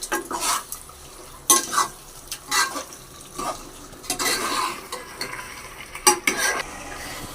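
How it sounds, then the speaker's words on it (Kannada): Chicken biryani masala cooking in a pot, with repeated bursts of stirring and scraping against the metal and a steady sizzle and bubble running underneath, close and fairly loud with no talking. "ನೋಡಿ ಚೆನ್ನಾಗಿ ಕುದೀತೈತೆ"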